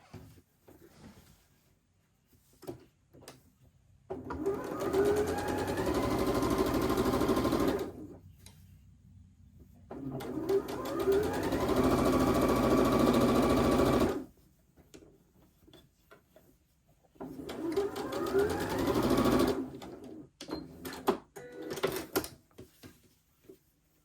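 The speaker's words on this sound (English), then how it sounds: "Sew those horizontal seams to this 9 patch." A sewing machine stitches the horizontal seams of a nine-patch quilt block in three steady runs of several seconds each. The pauses between runs are filled with small clicks and fabric handling. It is close and fairly loud, with no talking.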